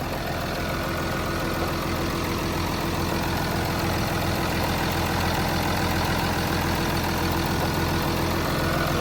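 A Komatsu WA380-6 wheel loader's six-cylinder turbo engine, a Komatsu 6D107, runs steadily at idle, a loud, even, continuous drone heard close up with no talking.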